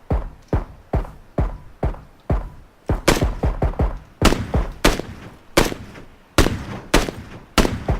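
Rifle gunfire in the video game PUBG, with about fifteen loud, sharp shots at a steady pace that speeds up into tighter pairs near the end, each crack trailing off in a short echo.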